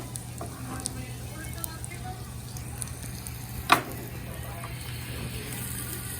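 Rice for risotto tipped into a hot pan and stirred, giving a steady low sizzle with soft scraping and one brief louder clink partway through, no voices.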